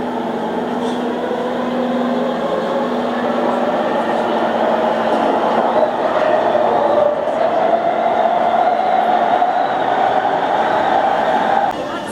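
Riding inside a Singapore MRT train: a continuous rumbling rail drone with rising whine as the train moves, steady and loud throughout, with faint voices in the carriage.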